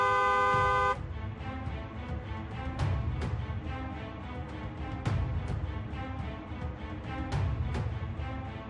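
A car horn gives one loud, close, sustained honk lasting about a second, then gives way to a run of sharp ticking clicks spaced a second or two apart over a low background rumble.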